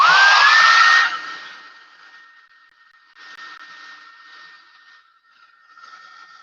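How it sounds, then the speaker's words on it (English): A hair dryer blows loudly for about a second, then drops to a quieter whir with a thin steady whine, surging faintly twice more. "I'm going to go ahead and hit it with the dryer."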